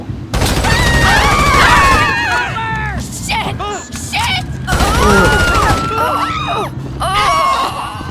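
GTA V gameplay gunfire crackles in rapid bursts amid booms and mechanical clatter, mixed with loud voices and shouting throughout.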